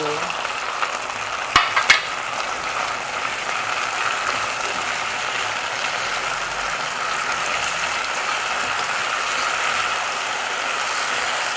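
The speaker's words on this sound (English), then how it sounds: "And now we're gonna add the tomato." Tomato goes into a hot pan for chicken stew, giving a steady, loud sizzle and frying hiss with a brief clatter of stirring near the start, and no voices.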